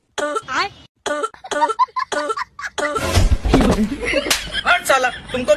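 Harsh bursts of coughing and throat clearing break out in a noisy, jumbled stretch after a few seconds of talk, with voices continuing over and between the loud coughs.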